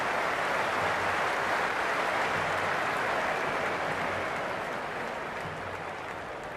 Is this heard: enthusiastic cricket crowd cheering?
yes